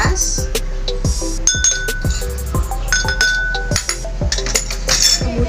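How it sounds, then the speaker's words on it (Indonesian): A spoon clinking repeatedly against a glass while coffee powder is added, a rapid series of bright, close, ringing taps in an irregular rhythm across the whole clip. "Kita ambil bubuk kopi dengan sendok yang berbeda. Masukkan ke gelas."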